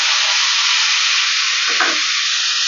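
Chopped tomatoes added to frying onions in a pan, a continuous loud sizzle and hiss from the hot pan with a brief thicker splutter near the end, no talking.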